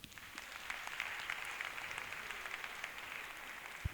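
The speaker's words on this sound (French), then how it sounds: "Il faut l'applaudir." Congregation clapping at a church installation ceremony for a parish priest, a soft, steady patter of many hands spread through the space, fairly distant and even throughout.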